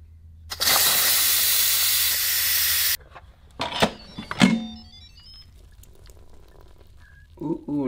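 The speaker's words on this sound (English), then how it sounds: "Ooh, the steam. There's my salmon in there" Steam hissing from salmon fillets cooked with pink salt and olive oil, a loud continuous hiss lasting a couple of seconds and then cutting off, followed by a few sharp clatters and softer handling noises.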